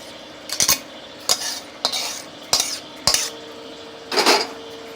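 Rice dry-roasts in a pan for a village puja offering, with a metal spatula scraping and clanking against the pan in five or six separate stirring strokes, close and clear, with no talk.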